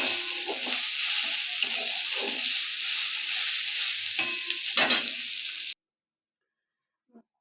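Curry sizzles and is stirred in a pan with cumin, a loud continuous frying hiss broken by spatula scrapes, then cutting off abruptly into silence.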